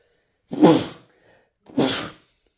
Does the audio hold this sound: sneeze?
yes